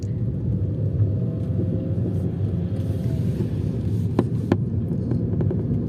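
A car approaching along a village road, heard as a steady, fairly close low rumble that holds for several seconds, with a couple of faint sharp knocks near the end.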